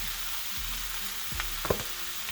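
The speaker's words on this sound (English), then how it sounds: "So I'm going to go ahead and add this ground beef with the baking soda added to it." Ground beef mixed with baking soda sizzles in a pan with caramelized peppers and onions, a steady frying hiss punctuated by a few scrapes and a sharp clack from a utensil.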